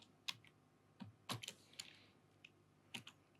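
Code is typed on a computer keyboard: sparse, quiet key clicks in small irregular clusters, close and dry, with no speech.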